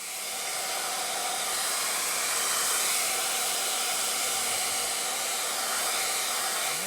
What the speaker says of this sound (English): I'm going to use a blow dryer and let it blow on it for a bit